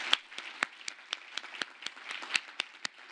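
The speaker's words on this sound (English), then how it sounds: "So let's give them all a big round of applause." Sparse audience applause for event organizers at a fintech week gathering, a dozen or so distinct, evenly spaced claps from a few people, close and fairly quiet.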